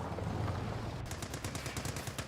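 Vickers machine gun firing in the war strategy game Company of Heroes 2, a rapid, evenly spaced burst of sharp rattling shots that starts abruptly and continues steadily over a low battle rumble.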